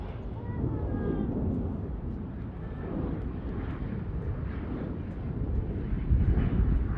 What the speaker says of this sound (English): This one's American Flight 5906, ERJ 145 LR